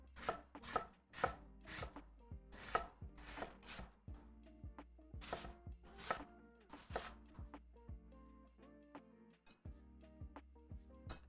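A knife chops onions on a board in a kitchen with broths on the stove, making quick, crisp, close taps in uneven bursts and leaving a few gaps, with no talking.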